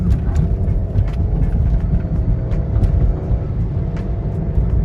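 A Jeep Compass, just repaired for a lost-communication transmission control fault, accelerates on the road with a steady, loud engine drone and low rumble that shifts slightly as the gears change, with no voices.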